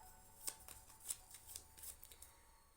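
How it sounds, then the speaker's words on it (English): Tarot cards are shuffled softly up close, with quick papery riffles and light flicks in an uneven rhythm. "Let me just keep shuffling."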